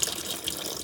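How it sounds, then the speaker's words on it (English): Cold water runs steadily from a tap fed by the onboard water pump of a 2001 Mercedes Autotrail Cheyenne 630S motorhome, a close, continuous hiss of flowing water with no talk. "We've got a water pump. There you go. Cold water,"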